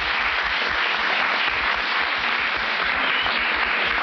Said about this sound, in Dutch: Dames en heren, een applaus voor Jildau Lamsma.